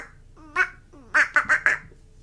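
A voice imitating a duck gives a single quack, then four quick quacks in a row, close and clear over a quiet background.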